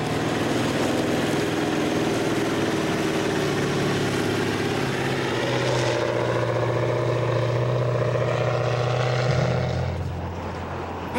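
A crop-dusting airplane flies slowly overhead, its propeller engine a sustained, loud drone that swells and slowly shifts in pitch before easing off near the end.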